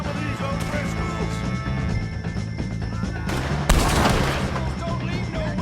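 Gunfire in Red Dead Redemption 2 during a fight with O'Driscoll gang members: rapid shots crack in bursts over a noisy game mix, and one heavy blast stands out near the end.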